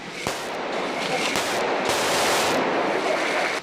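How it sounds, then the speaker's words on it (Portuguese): Gunfire crackles during a police raid in Rocinha, a dense rattle of distant shots with a few sharper close cracks standing out, continuous and loud throughout. "E não param de atirar."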